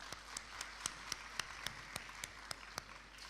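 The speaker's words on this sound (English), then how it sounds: "Just a quick round of applause" Sparse, faint claps from a small audience at a university film festival, each sharp hand strike standing apart in a slow, uneven patter over a quiet room.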